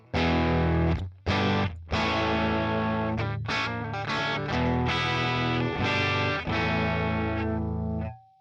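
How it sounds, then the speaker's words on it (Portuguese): Electric guitar played through a Boss Katana Gen 3 amplifier on its pushed preset, an edge-of-breakup tone with slight chorus-like effects; loud, sustained chords and phrases with brief pauses, played alone without talk. "O pushed, ele quase distorce."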